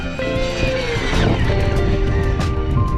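A Losi 8ight-XE 2.0 RC race buggy on a 4S pack runs at full throttle, its electric motor whining loudly and steadily with shifting pitch over rough, gritty road noise.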